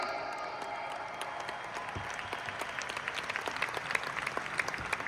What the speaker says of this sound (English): Can we all give ourselves a round of applause today?